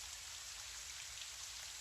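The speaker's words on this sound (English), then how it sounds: "As the rain slides down the window outside, feel the tension slide away from your body" Steady gentle rain falls outside a window, a soft continuous hiss of drops with no voices and an even, unbroken level throughout.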